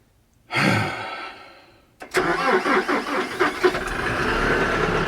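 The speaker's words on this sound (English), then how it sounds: "So we got the tractor started up" A tractor engine with a brand new battery cranks with a short whoosh, then catches and runs with a steady, rumbling idle close by.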